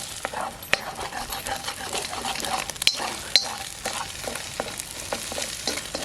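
Egg frying in a pan over a CampQube firepit, a soft continuous sizzle broken by scattered crackles and a couple of sharper utensil clicks, heard up close without talk.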